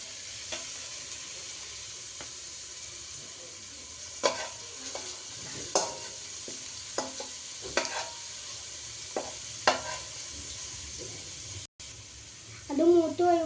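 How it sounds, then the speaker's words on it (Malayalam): A mushroom dish with garlic and ginger fries softly in a pan under a low continuous sizzle while a spatula slowly stirs, scraping in scattered knocks and clinks. A voice speaks briefly near the end. "ഇനി നമുക്ക് പതുക്കെ ഇളക്കി കൊടുക്കാം."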